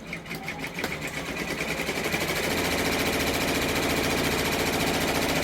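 A multi-needle embroidery machine stitches out an applique design, starting up quickly and settling into a fast, steady, rapid mechanical chatter that fills the clip at close range.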